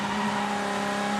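Combined Sedans race car engine at The Bend drops its revs approaching a hairpin, a steady loud droning tone with sustained harmonics, close and unbroken with no talk.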